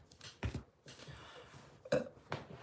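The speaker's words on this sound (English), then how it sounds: "Confirmation burp." A person burps indoors, giving a few short throaty bursts spread across a couple of seconds, close and moderately loud against a quiet background.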